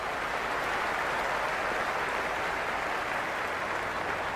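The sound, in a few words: crowd applause in Cricket 26 video game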